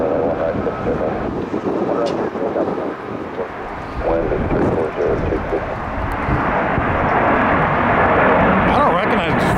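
A Boeing KC-135 jet taking off from MacDill roars steadily and loudly throughout, swelling toward the end, with wind buffeting the microphone.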